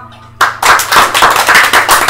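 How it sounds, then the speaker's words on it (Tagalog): A group of people at a birthday drinking session start clapping hands after a brief quiet moment, producing loud, close, rhythmic claps that repeat roughly every quarter second. "Lahat ng may kamay, pumalakpak."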